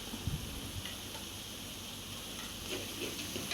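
Ginger garlic paste sautés in a pan for a Tamil-style vegetable curry masala kuzhambu, giving a steady, even sizzling hiss that lasts the whole stretch, with no voices over it.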